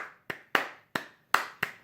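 Crisp handclaps from a pop song sound six times in a syncopated rhythm, each a sharp close snap with a short decaying tail and no voices.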